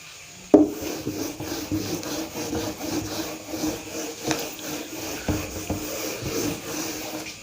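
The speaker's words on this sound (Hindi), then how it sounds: "तो देखो मैं रब कर देता हूँ" Someone rubs out writing on a board during a maths class. A soft, steady scraping rub begins with a sharp knock and goes on in uneven strokes, close by and fairly quiet.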